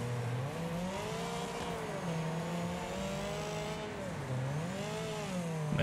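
A race car drifting around turns in the video game Wreckfest, its engine droning and rising and falling in pitch through the corners as the tires scrub, continuous and unaccompanied by speech.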